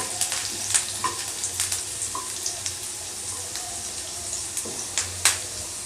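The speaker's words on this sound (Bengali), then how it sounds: "আমি পেঁয়াজটা দেব।" Onion frying in a pan for an egg chop gives a constant crackling sizzle, broken by scattered clicks and scrapes of stirring at close range.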